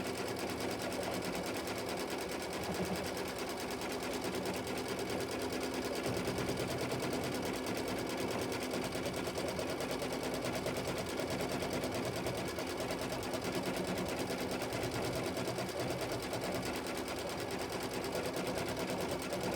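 A sewing machine stitches a flying geese quilt block, running a steady, fast, rattling needle rhythm close by for the whole stretch without pause.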